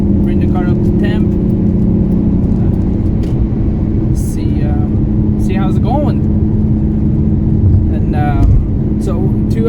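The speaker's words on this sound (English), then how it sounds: "so now we're just gonna do a little quick drive, bring the car up to temp" A car driving after a valve cover gasket repair, steady engine and road rumble throughout, while a person talks briefly over it near the start.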